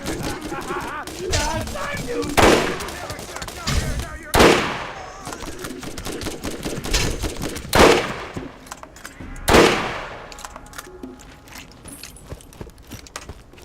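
Gunfire in the Borderlands 1 video game, with several loud separate blasts and short bursts spaced a couple of seconds apart, close and sharp over a low game backdrop.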